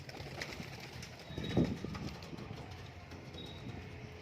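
Pigeons in a loft coo softly at a moderate distance over a steady background hum, with a brief louder burst near the middle that could be fluttering.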